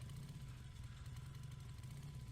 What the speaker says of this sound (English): It's as subtle as a motorbike revving outside your house while you're recording.